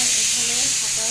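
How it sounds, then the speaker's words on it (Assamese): A pressure cooker cooking rice on a home stove lets out a steady, loud hissing whistle of steam that runs unbroken through the moment, with a voice faintly underneath. "এইফালে ভাতৰ হুইচেল আহিয়ে গ'ল"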